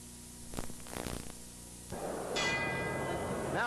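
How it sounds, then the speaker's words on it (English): A boxing ring bell rings to open round six at a 1969 heavyweight fight between Joe Frazier and Jerry Quarry, a bright metallic clang rising over crowd noise after earlier muffled thuds. "Now the bell for round 6."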